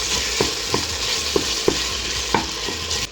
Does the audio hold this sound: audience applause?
no